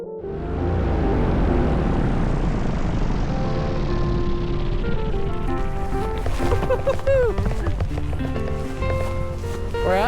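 A paramotor engine drones loud and steady in flight as the pilot comes in to land, with a constant buzzing whine running the whole time and shifting pitch near the end.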